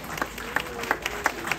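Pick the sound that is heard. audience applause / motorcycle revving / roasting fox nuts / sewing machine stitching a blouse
audience applause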